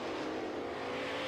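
Late model race cars roar together at full throttle on a track at the start of a heat race, a dense, steady, moderately loud engine drone with no talk over it.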